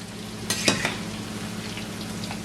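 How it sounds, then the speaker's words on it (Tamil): Vegetables deep-frying in oil for upma, with a steady close sizzle and bubbling that has a few sharp pops near the start and continues evenly afterward, no speech. "இப்போ 2 நிமிஷமாக தான் அதுலேருந்து பொரிஞ்சு கொண்டு இருக்குது."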